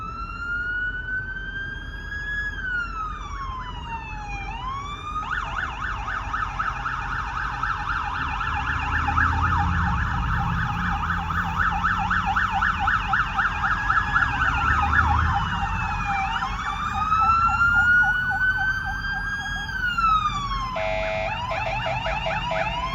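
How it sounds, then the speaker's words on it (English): Police sirens from a passing motorcade outside the DC Jail: several wailing and yelping sirens overlap and sweep up and down, swelling louder as the vehicles pass and then easing off. "Sounds like we got another motorcade coming."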